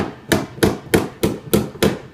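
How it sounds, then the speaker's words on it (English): Six evenly spaced hammer blows strike thin, rusty sheet metal of a Jeep Cherokee unibody in a steady rhythm, each a sharp, ringing clang heard up close. "you have to hammer it back."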